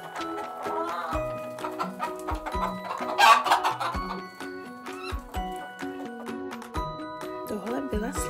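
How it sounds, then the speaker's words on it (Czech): A farmyard chicken clucks in short repeated bursts amid horse clip-clop and whinnying, with a voice speaking over the sounds at moderate level. "Tohle byla slepice."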